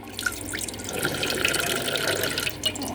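Water pours steadily into a cooking pot at a kitchen tap, a close, continuous splashing rush that holds for the whole stretch with no talking.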